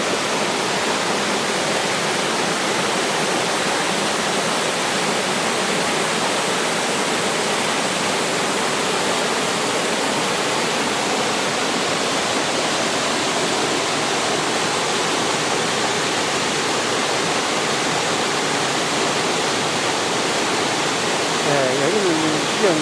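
A steady, loud, full rush of water pours down the Chilyeon waterfall in Chilyeon valley on Deogyusan mountain, a constant close roar with no breaks.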